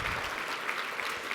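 Brief, steady applause from an audience at an awards event honoring donors, many hands clapping together in an even, moderately loud wash without speech.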